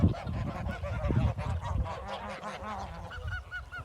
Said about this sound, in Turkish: Gördüğünüz gibi kazların kapısını açtım.